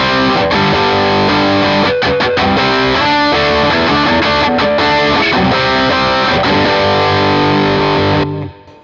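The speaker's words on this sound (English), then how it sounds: "That is more like your distortion." An electric guitar through an OCD overdrive pedal plays loud, gritty chords and riffs with a thick, saturated growl, stopping abruptly near the end.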